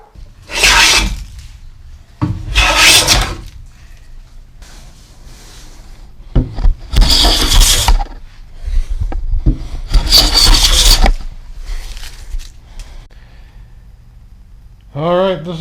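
A wooden workbench top being hand planed produces a series of loud, rasping wooden strokes, each about a second long, with quieter shuffling and handling noises between them.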